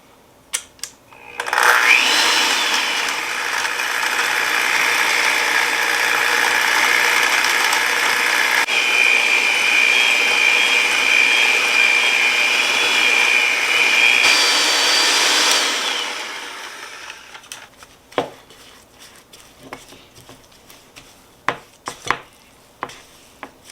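An electric hand mixer creams butter and sugar for lemon curd filled Easter cookies, whirring loudly and steadily at close range for about fourteen seconds. Its motor tone then climbs a little higher. After it stops, a few scattered clatters of the bowl and utensils follow.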